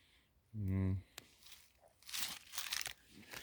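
A plastic vinyl sheet crinkles in a vegetable garden, with faint, irregular rustling bursts that come and go after a short voiced sound near the start.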